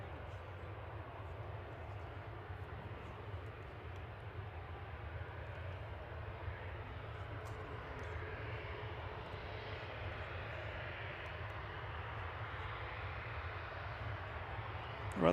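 A Ryanair airliner bound for Bologna at Manchester Airport, its engines giving a steady, broad roar that holds at a moderate distance for the whole stretch, with no talk over it.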